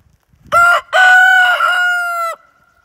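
A rooster crows loudly and close by in a farmyard, a short opening note followed by a long sustained cock-a-doodle-doo that trails off, heard alone with no talk.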